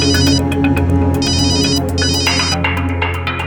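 Telephone ringing in a tense police crime drama scene, a loud electronic ringtone with rapid trilling bursts repeating over a steady hum of background music, close and continuous with no speech.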